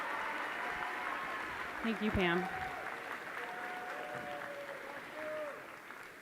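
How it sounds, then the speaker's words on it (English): High school graduation crowd applauding for a thanked guest, a steady wash of clapping throughout with someone speaking briefly over it near the middle. "So if we could give a round of applause for Pam"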